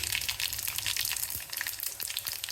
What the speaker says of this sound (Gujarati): તેલ આપણું આવી ગયું છે રાઈ જીરું